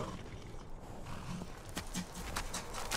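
Horse hooves clip-clopping in the video game Skyrim, a steady run of hoof beats over a busy game background with no talk.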